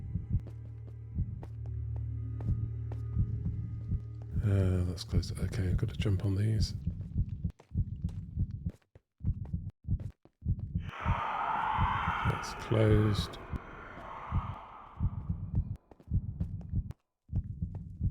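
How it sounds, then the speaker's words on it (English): In-game heartbeat effect on the Minecraft Decked Out 2 map, a low, steady throbbing pulse that repeats beneath a player's talking, mixed with other glitchy game sounds and bursts of noise. "Yeah, you can hear the heartbeat."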